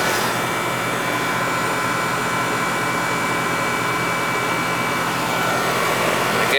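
Refrigerant gas charging into the low suction line of an air conditioning system gives a steady, loud broadband hiss that runs unbroken the whole time, with no talking.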